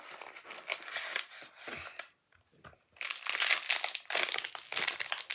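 A plastic bag crinkling as it is opened from a Sonny Angel surprise box, close and continuous crackling with a short pause midway, no talk.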